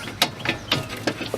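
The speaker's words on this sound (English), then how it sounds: "now I'm using the tire iron to help me." Tire iron ratcheting a bolt on a Toyota Camry front strut during replacement, four short clicking turns in an even rhythm, close and clear with no talking.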